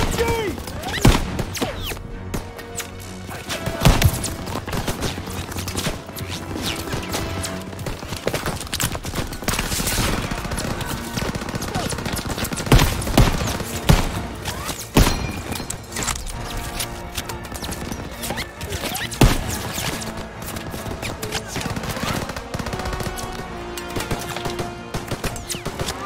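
Machine gun fire in the World War II D-Day setting of Call of Duty WWII, with sustained rattling bursts and sharp cracks that repeat over a noisy battlefield backdrop, loud and near.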